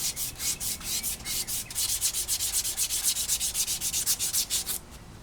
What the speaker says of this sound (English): I gotta sand them down. Easily sand them right out.